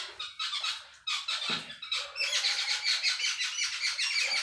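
Birds chirp and squeak busily near street dogs being fed outdoors, a dense run of high, rapid tweets close by and fairly loud, with no talking.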